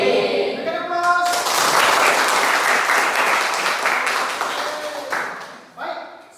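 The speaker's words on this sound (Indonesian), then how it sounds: "Berikan aplaus." Classroom applause from students at the close of a group presentation, dense clapping that fills the room for several seconds then tapers off, with a few voices murmuring underneath.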